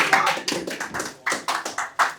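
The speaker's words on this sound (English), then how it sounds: "everyone clap for Roman." A small group claps in quick, uneven bursts, close and lively, lasting only a couple of seconds.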